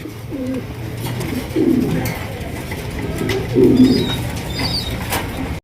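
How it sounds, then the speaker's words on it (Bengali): A pair of black magpie pigeons coo in low, soft, repeated murmuring phrases close by, with faint higher chirps and light rustling in the background. "এখানে রয়েছে একজোড়া ব্ল্যাক কালারের ম্যাকপাই কবুতর"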